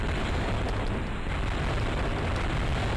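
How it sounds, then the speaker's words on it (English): Many explosions overlap in a 2D Halo fan game, merging into a dense, continuous roaring rumble with no break, loud and steady throughout, without speech. "The overlapping explosion sound effects is just wild."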